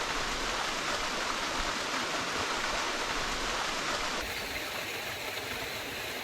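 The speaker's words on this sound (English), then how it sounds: "Look at that waterfall." A waterfall pours into a cold, secluded swimming hole in the bush, giving a steady, even rush of falling water that stays close and unbroken with no talk.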